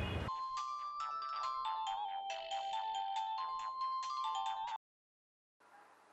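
A mobile phone ringtone plays for an incoming call, a looping electronic melody of repeated bright notes that rings loud and close for several seconds, stops abruptly, then a faint hiss follows.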